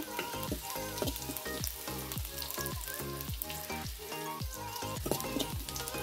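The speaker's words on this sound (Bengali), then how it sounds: "এখন আমি কয়েকটা গোটা জিরা দিয়ে দিলাম।" Whole cumin seeds frying in oil with garlic, onion and green chilli crackle and sizzle close up, with a steady run of crisp popping bursts and no talk.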